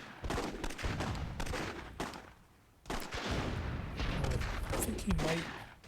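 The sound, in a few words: cannon fire in video game Myth II Soulblighter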